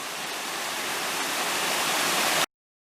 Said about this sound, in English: So a nice little waterfall, though.